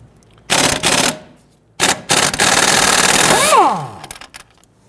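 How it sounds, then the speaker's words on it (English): Tool on a 14mm socket loosening and removing the strut clevis bolt on a 2008-2013 Infiniti G37x front suspension: close, loud bursts of rattling ratchet or impact noise, followed by a longer sustained run that winds down. "Use a 14mm socket to loosen and remove this bolt."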